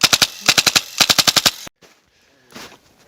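An airsoft gun fires in rapid bursts at an abandoned mining town, with sharp, close, evenly spaced shots in three quick volleys, followed by quieter rustling and a faint voice.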